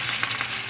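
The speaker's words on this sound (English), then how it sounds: "you're really gonna hear the sizzle" Pork chops sizzling in a pan with butter, a steady close hiss of frying that runs throughout without pause.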